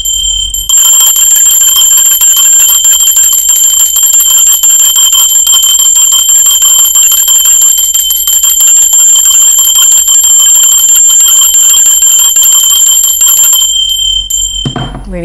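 A bright bell rings with a sustained metallic tone and strong lasting overtones, loud and close, continuing steadily for several seconds before cutting off, with no voices.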